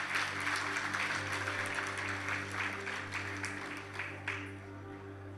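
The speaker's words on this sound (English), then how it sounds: "I think they deserve a round of applause even more than that" Sustained applause from a banquet crowd at a Kruger centenary gala dinner, steady dense clapping for several seconds that tapers slightly toward the end, with a low hum underneath.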